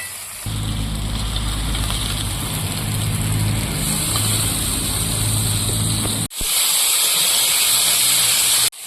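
Fried potatoes hit sizzling masala in a pan, setting off a loud, steady hissing fry that keeps going for several seconds, breaks off sharply for a moment, then comes back just as strong.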